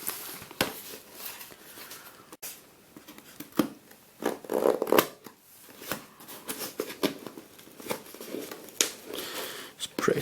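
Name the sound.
opening an eBay package sealed with tough duct tape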